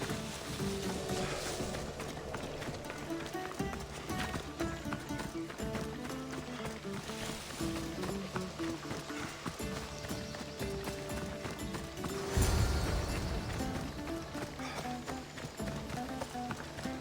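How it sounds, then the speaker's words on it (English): Horses galloping at speed in a race in the video game Assassin's Creed Odyssey, continuous rapid hoofbeats with a heavier thud partway through, under game music. "Now we'll race horses"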